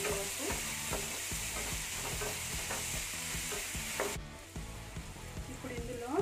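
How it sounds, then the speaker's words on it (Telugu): Ginger garlic paste fries in a pan with a continuous sizzle. Repeated light scrapes and taps of stirring sound close by, with no voices. "అల్లం వెల్లుల్లి పేస్ట్ వేసుకున్నాక కొంచెం ఫ్రై చేసుకోవాలి పచ్చివాసన పోయే వరకు."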